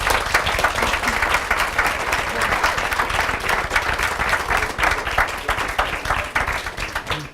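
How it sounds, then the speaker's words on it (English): An audience at a panel discussion on worker cooperatives and good jobs applauds the panelists, a steady, fairly close wash of clapping that holds for about seven seconds before thinning out. "I want to give our panelists a round of applause"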